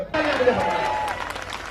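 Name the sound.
rally crowd applause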